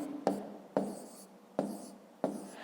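Pen strokes scratch on paper during a fifth-grade math division exercise: four short, crisp bursts of handwriting close by, each starting sharply and then fading.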